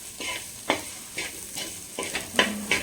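Vegetables such as cabbage and cauliflower stir-fried in a pan for veg fried rice, with a steady sizzle broken by several sharp scraping stirs of a spatula, close and fairly quiet, no talking.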